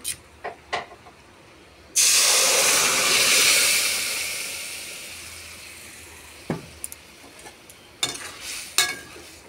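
Boiled chana dal tipped into a pan of spices for a coconut chana dal erupts in a sudden loud hiss that slowly fades, followed by softer stirring and a few sharp clinks.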